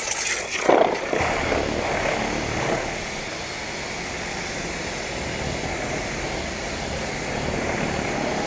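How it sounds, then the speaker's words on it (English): Water spray rinses the body of a Corvette C7 Z06 during a wash, a steady rushing hiss with a brief louder burst near the start. "I'm gonna start washing the body. I'm gonna rinse it down."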